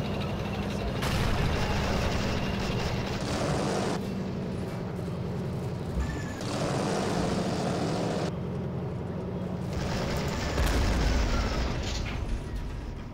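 Heavy cannon fire and explosions from a Soviet KV-1 tank engaging a machine-gun nest and a Panzer in the Men of War Assault Squad battle game, booming in separate loud blasts over constant rumbling battle noise.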